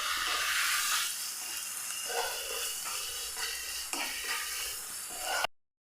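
A turmeric and garam masala mix is stirred in a hot pan, with a continuous hissing sizzle and a few scraping spoon strokes, heard alone and close.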